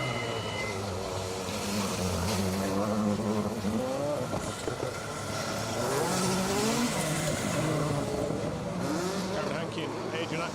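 A rally car drives hard through a circuit rally stage, engine revving up and down with tyre squeal, under near-continuous live commentary.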